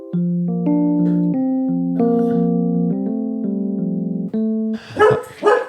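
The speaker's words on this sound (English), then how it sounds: "Oh, the dog." Indoors, a dog lets out two short, loud barks right at the end, after several seconds of sustained, layered musical tones.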